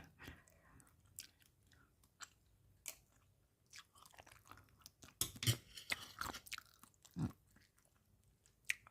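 Someone close by chews crispy pork skin with tendon attached, making quiet, irregular crunchy bites and wet chewing sounds that sometimes pause, with no talk.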